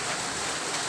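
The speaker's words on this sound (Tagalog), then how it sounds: "Malakas ang ulan." Heavy rain falling as a dense, even wash of noise, loud and continuous for a moment.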